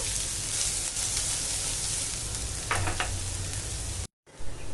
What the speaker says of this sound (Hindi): ऑनियन मेरा अच्छे से फ्राई हो चुका है।